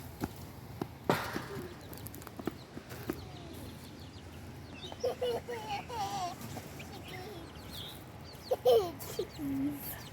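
Baby chickens chirp and peep in scattered bursts against a quiet outdoor garden background, with soft murmuring voices nearby.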